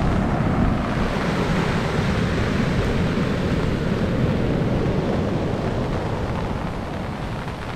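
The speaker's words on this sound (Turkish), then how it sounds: "Dalgaya bak abi." Heavy sea waves surge and crash on the shore in a continuous loud roar mixed with gusting wind noise, with no voices over it.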